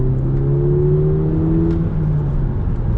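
An Audi TTS accelerating hard on an open road, engine note climbing steadily in pitch from inside the cabin before easing near the end, loud and close with no talk.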